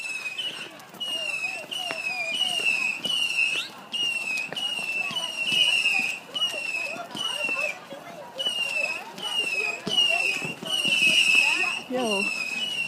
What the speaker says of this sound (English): Fireworks are going off.